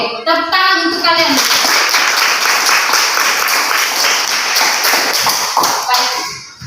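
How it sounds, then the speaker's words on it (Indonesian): A class of children applauds together, a dense burst of clapping hands that sets in after a brief voice and stays loud and steady for several seconds before tapering off. "Oke, tepuk tangan untuk kalian."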